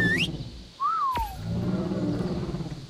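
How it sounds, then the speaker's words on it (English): A whistled attack command from the creature-taming game ARK: Survival Evolved on Xbox One, a short rising then falling whistle over low game ambience and a sharp click, with creature rumbles after. "Oh no, we whistled."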